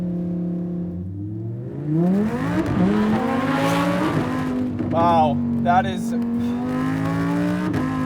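A tuned Lamborghini Huracán V10 LP580-2 accelerates hard, its engine note climbing through rising revs and gear changes. An excited voice speaks over it briefly.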